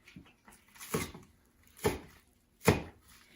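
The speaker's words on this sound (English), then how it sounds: "I'm just chopping some nice fresh green onions to go on the top." A knife cuts fresh green onions, giving three or four soft, separated chops on a board, quiet and close, with nothing else heard.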